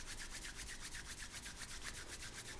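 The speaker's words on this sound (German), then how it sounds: "Erstmal so ein bisschen Hände reiben." Hands rub together in a steady, soft swishing at a children's sing-along concert warm-up, quiet and continuous with a faint back-and-forth pulse and no talking.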